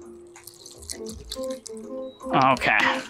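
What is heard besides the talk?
homemade sparkling water with lemongrass being poured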